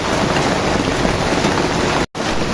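Steady rain pouring down outdoors, a loud continuous hiss close by with a brief drop-out near the end and no talk.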